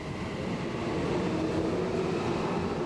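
Tokyo metro trains travelling toward Kasumigaseki, a continuous low rumble of rolling wagons with a faint tonal whine, steady and fairly loud from start to end with no speech.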